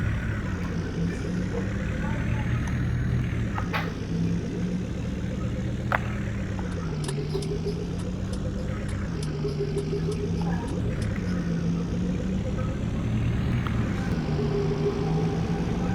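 A truck engine runs steadily throughout, a continuous low drone with a strong low hum and harmonic bands that waver slightly in pitch. Outdoor noise and a few faint clicks sit over it.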